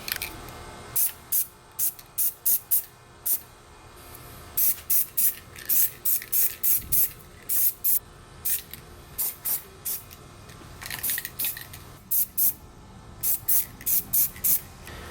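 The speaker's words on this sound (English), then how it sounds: "I'm just going to be spraying this area where I repaired." Short repeated bursts of spray paint hiss onto a repaired Sea-Doo XP Limited hood, light coats applied in quick pulses with brief pauses between them.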